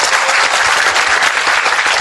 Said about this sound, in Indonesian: kepada beliau saya mohon Anda semua tepuk tangan ya